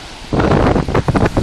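Strong north wind at a wild beach, Plage sauvage du Jaï, roaring loudly into the microphone in heavy buffeting gusts with broadband rushing noise and no voices.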